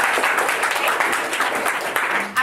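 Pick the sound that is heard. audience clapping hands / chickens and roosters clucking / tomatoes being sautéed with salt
audience clapping hands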